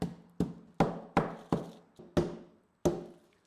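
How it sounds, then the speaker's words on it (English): A meat mallet pounds beef between plastic sheets for carpaccio: seven sharp, fairly evenly spaced thudding blows close up, each with a quick decay, and no talking. "then we're going to pound it out with a meat mallet"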